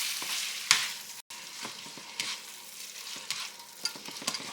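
A spatula breaks up and stirs meat frying in a hot pan, steady sizzle under repeated scraping taps and knocks, close and moderately quiet, with a brief dropout near the middle.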